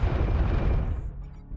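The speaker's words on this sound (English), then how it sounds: "Who's shooting us?" Weapons fire and explosions roar in the MechWarrior video game during a Marauder IIC build fight, a dense, loud, continuous barrage of booms and impacts that thins slightly toward the end.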